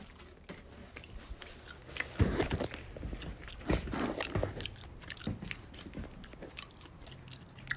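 Close, crunchy chewing of a piece of candied ginger, with uneven bites and mouth sounds coming in bursts and no talking.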